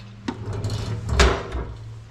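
The metal door of a homemade steel barrel stove swings open and shut, giving two sharp scraping clanks over a low steady hum, close and fairly loud.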